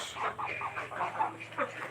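Domestic ducks, about six and a half months old, quack and chatter in repeated bursts close by, a busy flock calling over a steady low background hum.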